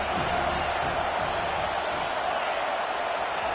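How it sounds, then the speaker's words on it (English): A stadium crowd at a college football game swells into a steady, dense roar as the defense lines up on third down, a continuous wash of noise without distinct cheers. "Decibels rising as the crowd gets behind this defense on 3rd down."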